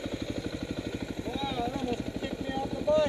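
A Husaberg FE390 motorcycle engine pounds at steady rev while rallying, a close, rapid thumping exhaust beat with a brief throttle rise near the end and a voice shouting over it.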